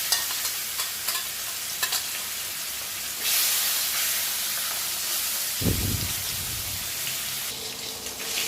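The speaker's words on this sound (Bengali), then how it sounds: "বাকি মাছটা ভেজে নেব এই তেলে। বাকি মাছটা তেলে দিয়ে দিচ্ছি।" Fish frying in a pan of hot oil gives a steady, loud sizzle and hiss throughout, with a brief low rumble of stirring or movement midway and no talking.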